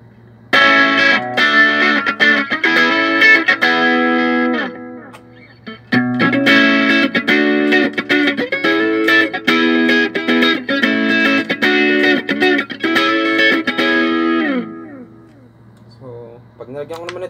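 An electric guitar played through an amp modeler with analog delay engaged rings out in sustained, echoing chords and picked notes. Two long phrases are separated by a brief pause, and a few faint trailing notes follow.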